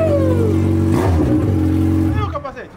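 A Yamaha XJ6 motorcycle engine turns over and revs steadily with a rising, sustained roar, then fades out near the end as voices begin to talk over it.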